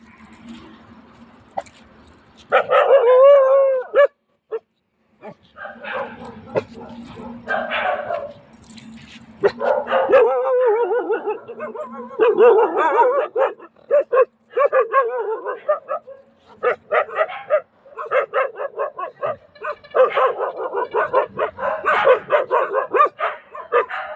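Dogs in a residential colony bark repeatedly in bursts at a whistling night watchman, some close and loud, with a person talking in between and around the barking.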